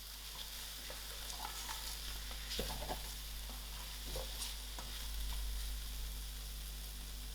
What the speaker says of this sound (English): I'm going to throw in my soya prawns to it and give this a mix.